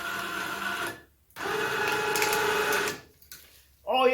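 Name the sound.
winch motor on a Honda Fourtrax 200 ATV letting out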